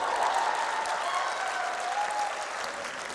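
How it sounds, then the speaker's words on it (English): A comedy show crowd claps steadily and fairly loudly for a few seconds, with a faint hum of voices and whoops mixed into the applause. "Clap for yourself for looking like that."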